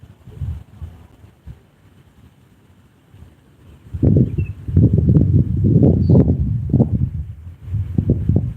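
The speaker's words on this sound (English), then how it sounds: "Got a little wind" Outdoors while fishing, wind buffets the microphone, first in light low rumbles and then in loud sustained gusty roaring through the second half.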